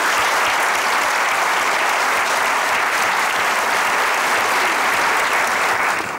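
Sustained audience applause fills the whole stretch, a dense, steady wash of many hands clapping at even loudness from start to finish, with no talk over it. The setting is a children's comedy stage show.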